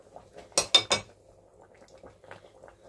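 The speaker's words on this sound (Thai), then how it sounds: "ใช้ทัพพีไม่ถูกกับหม้อนะคะวันนี้เพราะว่าหม้อมันเป็นเทฟลอนค่ะจะค่อยๆคูณค่อยๆขูดจ้ะ" A ladle clatters and scrapes against a Teflon pot of bamboo shoot curry, with a few sharp metallic clinks close up, followed by softer intermittent scraping and faint kitchen sounds.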